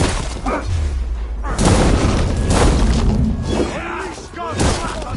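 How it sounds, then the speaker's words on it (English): Artillery fires in Assassin's Creed during a battle in Ireland, with heavy booms and crashing impacts under a busy, loud mix of shouting voices and battle noise. "They have artillery!"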